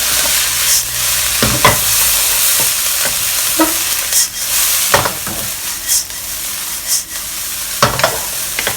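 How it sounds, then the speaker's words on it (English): Thai olive fried rice with fish sauce sizzles steadily in a hot wok, broken by sharp scraping and clanking of the spatula as it is stirred and tossed, close up and without talk. "Now we'll add some fish sauce to the fried rice. 2 tablespoons of fish sauce. Mix them up well."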